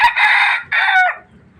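A labuyo rooster crows loudly and close, one full crow of two strong sustained phrases that trails off into soft clucking.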